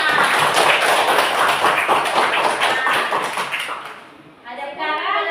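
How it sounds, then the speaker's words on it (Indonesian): A class claps rapidly together in a dense burst for several seconds, tapering off, followed by a voice speaking. "Tepuk tangan."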